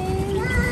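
A cat gives a single short, close meow over a busy, rumbling background.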